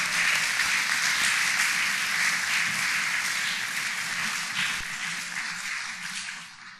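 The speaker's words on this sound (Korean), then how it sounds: "크게 박수 한번 해주시기 바랍니다" A church congregation claps loudly for graduating children at a graduation service, a steady wash of applause throughout that tapers off slightly toward the end.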